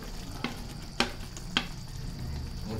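Mushroom, peas and paneer being stirred into a thick gravy in a pan, with three distinct clanks of the spoon against the pan over a steady low sizzle.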